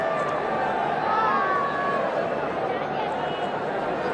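Large cricket crowd at Eden Gardens stadium in Kolkata during a one-day international between India and Sri Lanka, a broad distant roar of chatter and babble under a commentator talking.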